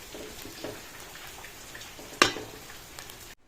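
Grated coconut roasting in a pan for a Goan mushroom curry, a soft continuous crackling sizzle with one sharp clack of the spoon near the end before sudden silence.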